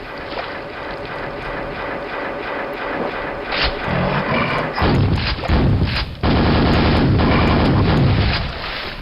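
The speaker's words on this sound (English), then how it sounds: "I do love the rocket launcher in this game, though." Rocket launcher fire and explosions in the classic shooter Quake, a rapid run of loud blasts and booms that thicken toward the end over a steady gritty game hum, with no voices.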